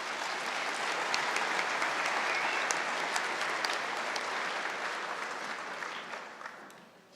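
Sustained audience applause at a scholarship awards ceremony, a dense steady wash of many hands clapping at full strength that holds for several seconds before tapering off at the end.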